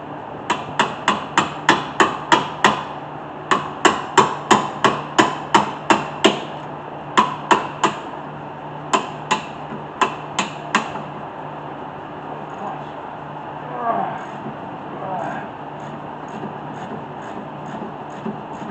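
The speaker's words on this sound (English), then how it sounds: "Now we'll get the bracket bolts off." Rapid hammer strikes ring out on the rear brake bracket bolts of a 2009 Honda CR-V, about twenty sharp metallic blows in quick bursts with pauses between them, loud and close, followed by quieter workshop shuffling.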